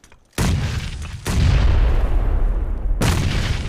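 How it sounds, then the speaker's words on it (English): Grenades exploding in PUBG, two heavy booming blasts in quick succession and then a third, each landing hard and trailing into a dense, rumbling roar. "I'm gonna toss nades up the hill."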